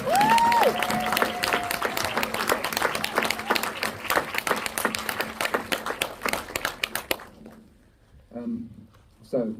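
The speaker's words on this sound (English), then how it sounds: "I think they deserve another round of applause." An audience at a National Gallery film premiere Q&A claps steadily and densely for several seconds, then the applause thins out and fades to scattered claps.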